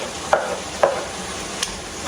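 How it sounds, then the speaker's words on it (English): Roma tomatoes go into a hot pan of bistec ranchero beef under a steady sizzle, with a few soft scraping stirs cutting through the constant frying hiss. "I'm gonna put the Roma tomatoes in here."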